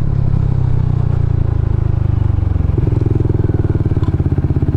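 A motorcycle fitted with a JVT V3 exhaust pipe runs on a test ride, a loud, close, throbbing engine note that rises in pitch partway through as it revs, with a rapid pulsing beat.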